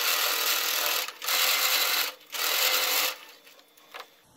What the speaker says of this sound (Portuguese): Então vou passar uma costurinha aqui.